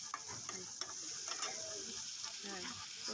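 A spoon scrapes and stirs a bubbling, sizzling bilimbi fish curry gravy with potatoes in a pan on the stove. The stirring clatters and scrapes irregularly over a constant close hiss, with no voices.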